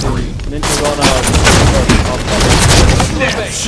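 Dense automatic gunfire in a Halo 5 Strongholds match, loud and continuous, with overlapping bursts and booms and voices mixed in.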